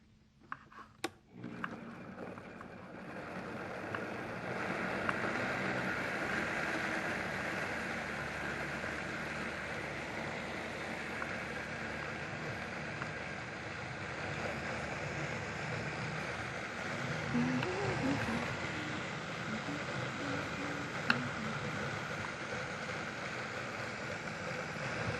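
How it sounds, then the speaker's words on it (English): Vitamix blender blending broccoli with garlic and onion powder, a steady loud whirring roar that starts abruptly and runs for about twenty-five seconds. "Put this on our Vitamix, and we're going to blend until it's smooth."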